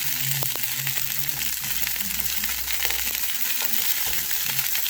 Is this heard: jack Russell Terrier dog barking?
no